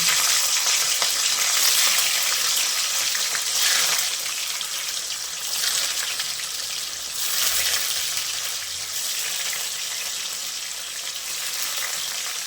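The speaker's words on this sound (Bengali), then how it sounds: "কড়াইতে সর্ষের তেল দিয়েছি, গরম হয়ে গেছে, পনিরগুলো ভেজে নেব" Paneer pieces fry in hot mustard oil in a wok, a continuous close sizzling hiss that swells and eases in waves for several seconds, with no talking.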